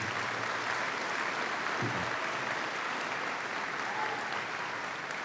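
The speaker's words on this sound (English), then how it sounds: "Please give a round of applause to our Board of Trustees and our keynote speaker" Sustained applause fills a college commencement ceremony, a dense, steady wash of many hands clapping throughout with no clear talk over it.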